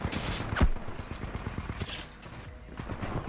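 Rapid turret gunfire in the Titanfall shooter game, a dense fusillade of close shots with sharp louder bursts mixed in, continuous throughout.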